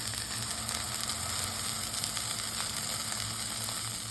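A breakfast sausage frying in a pan for a crispy breakfast sandwich, giving a loud, dense, continuous sizzle with fine crackles, close up and steady throughout, with no talking.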